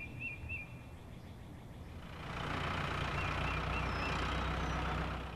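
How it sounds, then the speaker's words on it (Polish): A combine harvester's low, steady engine drones, growing louder and rougher partway through, with faint chirps in the background. "To jest kombajn."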